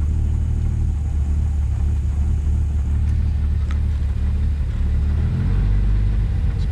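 A vintage Rolls Royce 20 engine with a standby magneto runs close by in a continuous low rumble that swells as it accelerates, building heavier toward the end.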